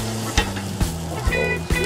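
Venison sliders sizzle on an outdoor grill over hickory, a steady close sizzle broken by four sharp metallic taps or scrapes about every half second, with no talk.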